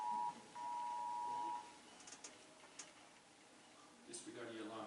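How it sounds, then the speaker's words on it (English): A steady, piercing alarm beep rings out during a meniscus procedure, holding for about a second and a half with a short break, then gives way to quiet room murmur and light clatter. "Disregard the alarm, it's nothing."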